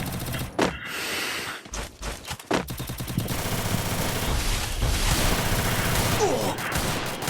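AWM sniper rifle gunfire in a video game: a couple of sharp, loud shots early on, then a dense, continuous barrage of game gunfire and action noise with no talking.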